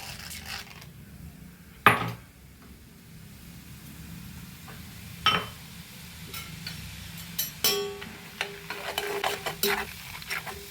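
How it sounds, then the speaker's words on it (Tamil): Roasted gram (pottukadalai) is dry-roasted and stirred in a pan, with a quiet rustle broken by sharp metallic scrapes and clinks of the spoon against the pan, growing busier toward the end. "பொட்டுக்கடலை வறுத்துக்கணும்."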